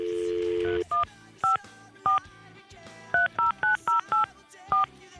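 Telephone keypad dialing tones: a longer dial-tone-like hum, then a series of short, clear two-tone beeps in an uneven rhythm, fairly faint and close, with no talking.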